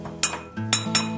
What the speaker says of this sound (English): Scoop it right out into my bowl.